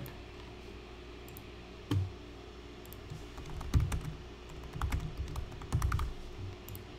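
Computer keyboard keys clicking in a quiet room, with a few scattered keystrokes and short bursts of typing, including shortcut presses for copying and pasting text, moderately close.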